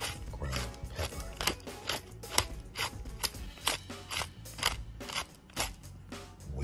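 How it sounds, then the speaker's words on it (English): A pepper mill grinds fresh pepper in a rapid series of short, crunchy rasping bursts, close and fairly quiet, repeating steadily for several seconds. "Fresh ground pepper."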